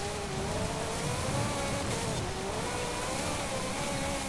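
Supercharged 1982 Lancia 037 Stradale engine in Forza Horizon 5, a steady droning rev with a whining tone that wavers slightly in pitch, sustained and unbroken across the whole stretch.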